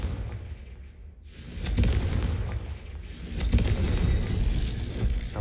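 Hogwarts Legacy's Confringo fire spell lets off loud booming blasts, a couple of heavy explosive surges with rumbling tails that roll into a dense, sustained roar.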